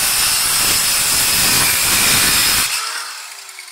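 Rail-guided multi-purpose cutter slicing through wood, giving a loud, steady, hissing whir for about two and a half seconds that then cuts off abruptly and fades.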